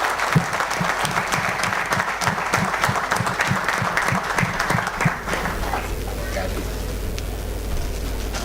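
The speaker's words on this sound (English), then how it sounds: "please welcome them to Chennai with a big round of applause." Audience at an event in Chennai claps in a big round of applause, with a steady rhythmic beat of clapping under a low hum that fades after about five seconds, leaving background rumble.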